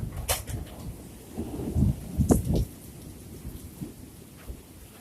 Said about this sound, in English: Oh yeah, this is definitely a storm.